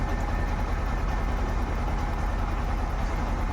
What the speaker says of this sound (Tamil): வண்டி சாவி ஆன் பண்ணியிருக்கேன், ஸ்டார்ட் பண்ணிட்டேன்